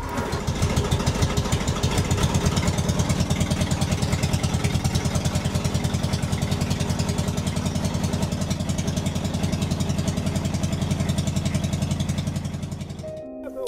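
An old Zaporozhets car's small engine idles steadily with a rough, rhythmic putter, loud and close, then cuts out near the end.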